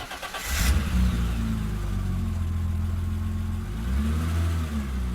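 A car pulls away as a group of friends set off on a trip: a brief starting burst, then a steady, close engine note that rises as it accelerates and revs again near the end, with no voices.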